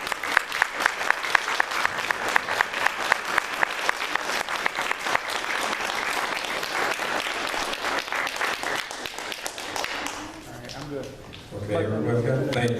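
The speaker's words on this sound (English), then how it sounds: "Please give them a round of applause." An outdoor Veterans Day crowd claps loudly and steadily for veterans for several seconds, then fades as a voice starts speaking over a quieter background.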